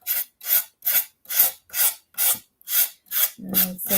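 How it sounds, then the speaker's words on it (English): Sandpaper rubs back and forth over a surface in about nine even, rhythmic rasping strokes, close and loud, with a different scraping sound at the end. "All right, so I'm just going to sandpaper this off."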